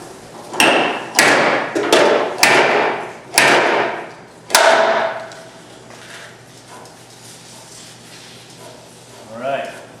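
A dent puller yanks a dent out of a car trunk lid, giving five sharp, loud thuds in a steady rhythm, followed by quieter handling noise.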